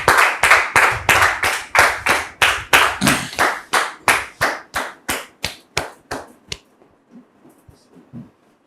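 A church audience claps to welcome a guest, a rhythmic run of sharp, fairly close claps in a steady beat that gradually thins out and fades into scattered last claps, with no voices.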